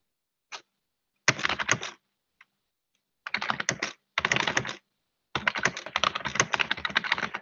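Bursts of rapid clicking keystrokes on a computer keyboard, close and crisp, separated by short pauses, with no one talking.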